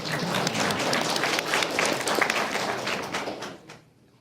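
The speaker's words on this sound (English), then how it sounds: "You can clap." Audience at a school economics quiz bowl clapping after correct answers, a moderately sized room of hands applauding steadily for about three and a half seconds before fading out.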